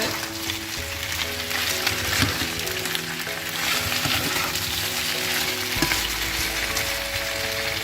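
Potato tortillas fry in a pan with a steady, dense sizzle and crackle, with a few faint utensil clinks and taps scattered through.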